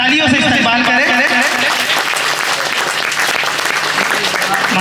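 Sustained applause from an audience at an Independence Day community gathering, dense steady clapping filling the whole stretch with loud crowd noise mixed in.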